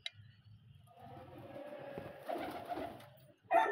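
Pigeons at a pigeon club give soft, low cooing calls close by, with rustling and light handling noise around them and a brief louder scuffle at the end.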